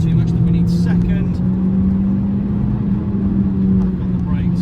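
Renaultsport Clio 197 hatchback pulling flat out in third gear, a loud, steady engine drone heard from inside the cabin with someone talking over it throughout.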